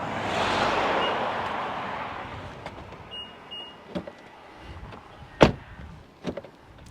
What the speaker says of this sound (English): Let's do a quick door sound check.